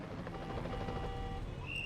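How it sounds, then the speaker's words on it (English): Helicopters in the strategy video game Power & Revolution 2023 produce a faint, continuous rotor thrum with a rapid pulsing beat, steady and distant throughout. "Send all 30 helicopters."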